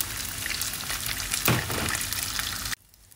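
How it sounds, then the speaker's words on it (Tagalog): Dried anchovies (dilis) frying in a hot pan give a dense, steady sizzle that swells briefly midway, then cuts off abruptly near the end, leaving near silence. "Fry natin yung dilis."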